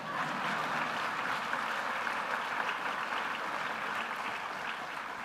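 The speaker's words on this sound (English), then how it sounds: "That's where you clap." Steady applause from a large audience at a college fall convocation, a dense even patter filling the space for several seconds without a break.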